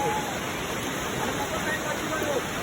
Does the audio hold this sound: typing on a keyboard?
no